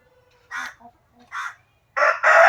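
A 12-month-old Peruvian breeding rooster weighing about 4.5 kg crows in close, loud bursts: two short calls, then a longer, louder crow near the end.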